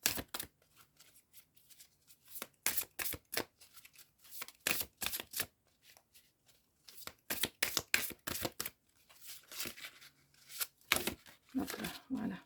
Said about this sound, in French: ce ne sont pas faciles à mélanger ces grandes cartes